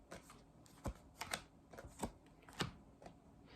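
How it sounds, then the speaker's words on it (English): Tarot cards being pulled from a deck and handled, giving a few soft, sharp card snaps and flicks scattered at irregular intervals, close and quiet, with no talking. "Let's pull some outcome cards here."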